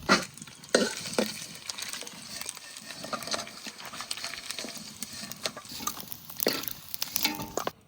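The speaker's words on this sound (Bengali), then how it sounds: "মাছের মাথাটা খুব সুন্দর করে ভেজে নিয়েছি" A catla fish head fries in a pan while being stirred, with crackling sizzle under repeated scraping and clattering strokes throughout, fairly close.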